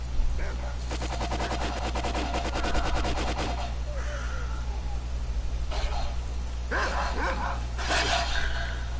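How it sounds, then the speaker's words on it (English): Rapid automatic gunfire rattles in a long burst over a steady low hum in the video game Stalker: Call of Pripyat, followed by mutant dog barks and yips. "That's gunfire, all right."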